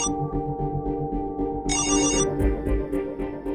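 A mobile phone rings indoors in a home studio, first with a repeating low tone and then with a bright, loud melodic ringtone that continues steadily without speech.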